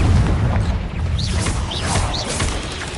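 Confringo explosive spell in Hogwarts Legacy, a deep booming blast up front followed by a few short chirping magical sparkles, loud and close, heard alone.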